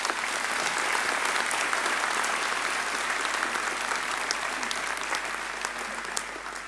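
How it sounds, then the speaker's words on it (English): Sustained applause from a large audience at a 2018 graduation ceremony honoring families and supporters, a loud, dense wash of clapping that holds steady then eases slightly toward the end. "Would you kindly give a warm round of applause to all the families and those who supported our"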